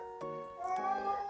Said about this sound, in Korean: 잠깐만, 좀 고양이 좀 달래고 올게요